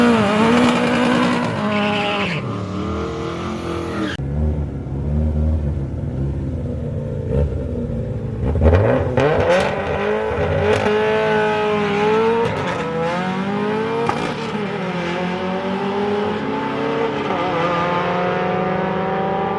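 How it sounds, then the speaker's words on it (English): A Toyota Starlet EP82 race car at a drag strip, engine revving with rising and falling pitch sweeps, tire squeal and passing car noise, loud and continuous throughout with no talk. "Nick's going to race his Starlet"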